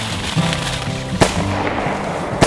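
A shotgun fires during a quail hunt in open north central Florida country: a single sharp, moderately loud report with a second fainter pop later, set against steady outdoor background noise.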